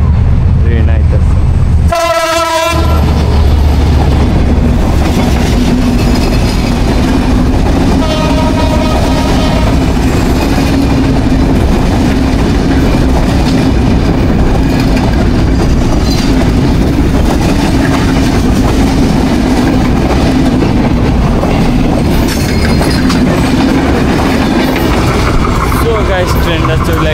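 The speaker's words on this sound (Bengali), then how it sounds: "এখন রেল লাইন ট্রেন আইতেছে" A train approaches and passes on a railway line, opening with a loud horn blast, then a long, steady roar of wagons and wheels rumbling close by, with a second shorter horn and someone talking over the noise.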